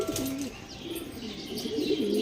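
Soft pigeon coos repeat close by, a few low warbling calls over a steady murmur of background noise.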